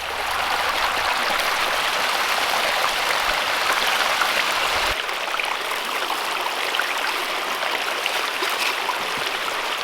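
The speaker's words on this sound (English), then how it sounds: "Gold Nona and I have almost got the 10th bucket pushed through the sluice box." Water rushes steadily through a gold sluice box as buckets of material are pushed through, a constant close hissing splash with a slight shift in tone halfway through.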